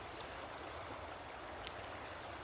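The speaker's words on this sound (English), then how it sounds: "that's a lot of water coming through here" Water streams through a flooded yard in a faint, steady gurgling rush, soft and continuous, with one small splash-like tick near the end.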